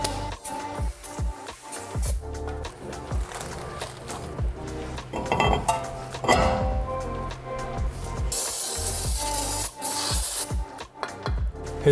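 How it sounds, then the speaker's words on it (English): A wire brush scrubs the brake parts of a 2012-2017 Hyundai Accent or Kia Rio in quick, scratchy, rasping strokes, close up, with irregular bursts of metallic scraping and a harsher hiss toward the end. "Grab your trusty wire brush."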